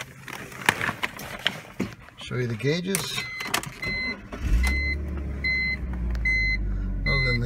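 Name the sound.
2004 BMW 325ci convertible engine starting up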